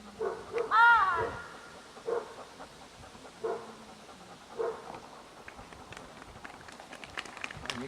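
A dog barks sporadically during training outdoors, with one louder yelping bark near the start and fainter barks and panting after, under a low background of wind and movement.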